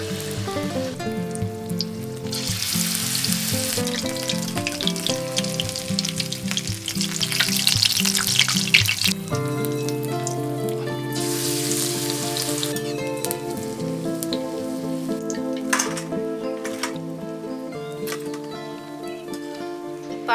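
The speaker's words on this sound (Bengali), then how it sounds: "বড়াগুলো ভাজার জন্য আমি কড়াইতে তেল দিয়ে দেব।" Jute leaf fritters fry in hot oil in a wok, a continuous sizzling hiss that swells and settles, heard beneath prominent melodic music that plays throughout.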